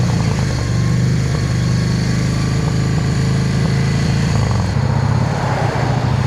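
A motorcycle engine idling nearby in slow traffic, a steady low rumbling putter that holds constant, then shifts slightly near the end.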